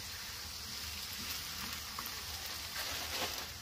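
A tortilla fries in pecan oil on a Blackstone griddle, giving a steady, close, crackling sizzle that runs unbroken throughout.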